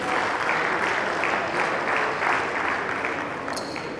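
Audience applause at an annual international mechanical engineering conference in Ilorin, a steady, dense clapping from a large crowd filling the hall throughout.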